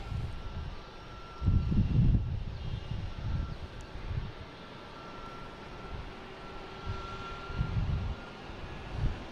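JetBlue Airbus A220 airliner at Boston Logan airport, a fairly faint, distant jet rumble that swells and fades in low gusts, with wind buffeting the microphone and no talking.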